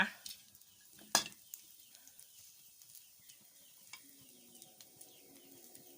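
A beaten egg stirred as it fries in a pan for a quick lunch, with scattered scrapes and clicks, one sharp knock early on, and a soft sizzle running underneath.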